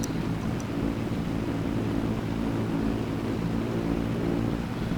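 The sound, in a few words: tractor engine in video game Farming Simulator 22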